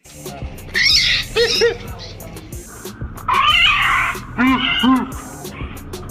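A cat meows and yowls loudly nearby, several drawn-out cries coming in pairs with short pauses between them.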